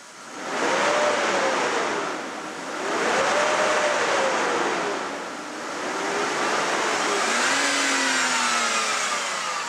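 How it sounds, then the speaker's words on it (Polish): BMW 520 E39 engine with a sticking viscous fan clutch, idling outdoors in snow, with a steady broadband whoosh that swells and fades in slow waves and a faint whine drifting in pitch, no talking. "słuchajcie dźwięku silnika"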